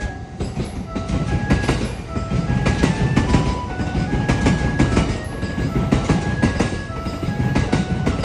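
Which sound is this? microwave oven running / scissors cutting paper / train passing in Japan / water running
train passing in Japan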